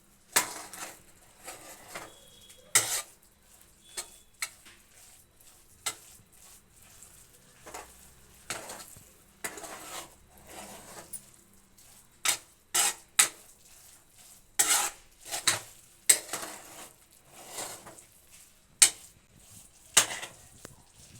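Tomato bath in a pot stirred with a spoon after one pressure-cooker whistle, giving irregular scraping and clinking strokes against the metal at close range, with no one talking.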